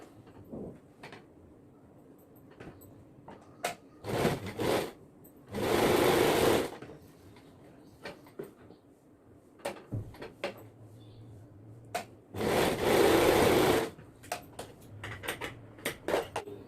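Sewing machine stitching the folded hem of a nightsuit, two sustained loud runs of fast mechanical whirring separated by quieter handling clicks and fabric rustle.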